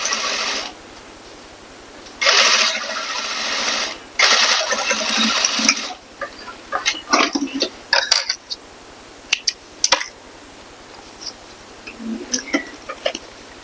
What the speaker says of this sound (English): when you stitch this down, you're going to stitch that seam allowance down in as well